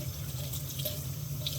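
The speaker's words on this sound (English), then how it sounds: "Just wash it in the running water." Tap water runs steadily into a sink while a plantain is washed under it, a continuous close hiss and splash with faint drips and no speech.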